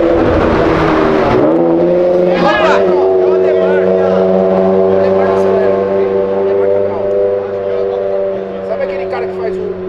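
Supercars, including Porsche GT-class models, rev and accelerate hard on a city avenue, a loud roaring engine note that rises, then settles into a sustained drone as they pull away, with voices talking over it.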